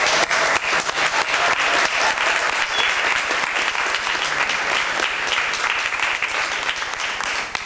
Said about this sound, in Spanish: Os pido un aplauso para el equipo de la película.